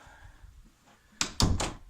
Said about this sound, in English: Now what to do, obviously close the door.